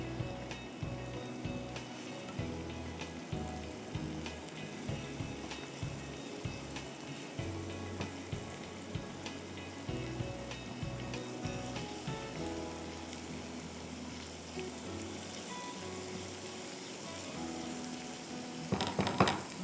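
Garlic fries gently in a pan, giving a quiet, continuous sizzle with fine crackling that runs for almost twenty seconds.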